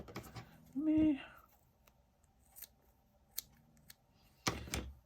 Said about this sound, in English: These scissors are very, very dull because I cut paper with them all the time.